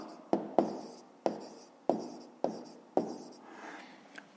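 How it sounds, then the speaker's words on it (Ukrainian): A pen writes out a fifth-grade math answer on paper in quiet, close strokes, about six sharp scratches at a fairly even pace, each fading quickly. "Записуємо тоді Олеся."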